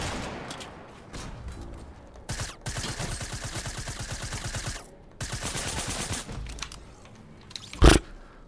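SMG gunfire in a video game: rapid automatic bursts in two long stretches, separated by shorter clatter and scraping, with a loud single bang near the end.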